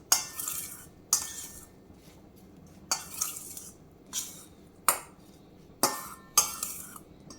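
Soya chunks being stirred with chili, turmeric and curd, giving a series of sharp metallic spoon clinks against a vessel. About eight distinct scrapes and knocks come at a steady, unhurried rhythm, close and clear, with no one talking.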